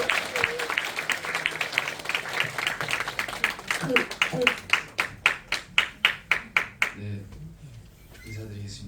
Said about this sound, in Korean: 김영수 교회장님 앞으로 나오실 때 큰 박수로 보내주시면 감사하겠습니다.